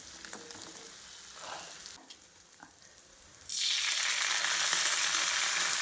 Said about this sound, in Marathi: चांगलं हलवून आपल्याला सोया चंक्स घालायचे आहेत.